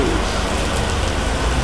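Torrential morning rain with hail pours down as a dense, loud, continuous hiss of drops drumming on surfaces, with no voices.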